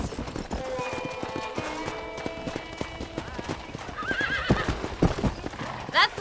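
Horses clip-clop at a steady pace and whinny several times in the Red Dead Redemption video game, with hoofbeats near and clear and a voice talking over them.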